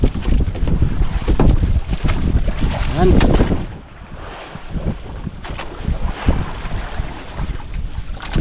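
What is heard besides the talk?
strong wind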